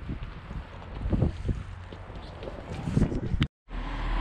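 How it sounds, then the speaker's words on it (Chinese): A wind gust buffets the microphone outdoors on a street in Liaoyang, making a heavy, uneven low rumble and rustle that swells and falls for several seconds and then briefly drops out. "对，刮一阵风，刮了一阵风。"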